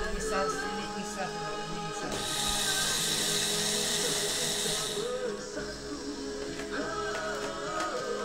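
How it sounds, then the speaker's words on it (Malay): An electric grinder mills rice into flour, a steady whirring drone running throughout with a louder, harsher burst in the middle; a voice is faintly present. "Ini aku start mula mengisar."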